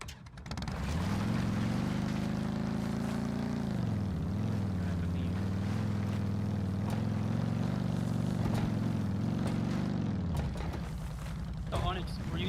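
A motorcycle engine in the Rust video game, a steady loud low drone that idles, dips briefly, then runs on evenly for about ten seconds before cutting off, with faint clicks around it.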